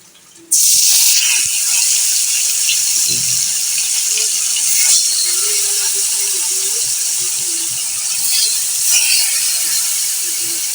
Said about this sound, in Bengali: লবণ আর হলুদ দিয়ে কই মাছটাকে মেখে ভেজে নেব